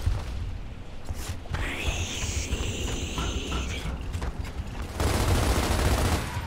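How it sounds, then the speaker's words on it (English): Gunfire from the character Dom in the video game Gears of War, sustained bursts with mechanical clatter running under a dense, noisy game soundscape that grows louder toward the end. "Who the fuck is Dom shooting at?"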